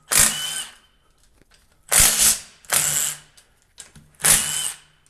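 An electric impact wrench works on the bolts of a car, firing four loud, close bursts of rapid hammering rattle, each about a second long, separated by brief quiet gaps.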